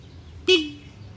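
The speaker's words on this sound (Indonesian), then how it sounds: "Ada klakson." A single short, bright beep of a Honda ADV 150 ABS scooter horn, sounding once up close against a quiet background.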